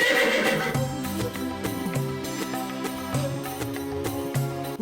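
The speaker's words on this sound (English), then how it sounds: "Calm down, you damn horse." A horse neighs and whinnies in a chariot-driving video game set in ancient Uruk, the call sounding alone over a layered musical score with sustained low tones and tonal accents.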